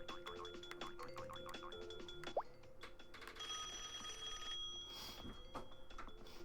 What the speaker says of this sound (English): That's an old phone sound.